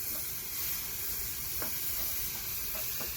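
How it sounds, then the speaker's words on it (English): Bacon sizzles steadily in a pot for smothered pork chops, a constant close frying hiss with a few faint utensil scrapes and no talking. "so now we just need to add our bacon to this"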